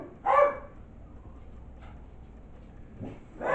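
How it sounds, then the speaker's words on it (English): Two dogs barking indoors, a few sharp yaps spaced apart, one near the start and another near the end, with no talking. "dogs are barking at anything and everything"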